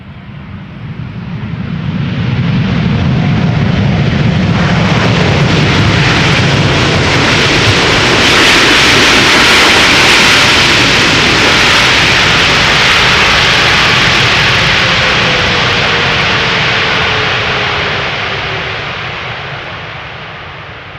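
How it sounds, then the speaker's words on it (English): A KLM passenger jet landing on Schiphol's Polderbaan runway, a very loud rushing jet roar that swells as it approaches, holds close by, then fades away. "KLM Flight 1954 arriving from Zurich, also going to the Polderbahn to land"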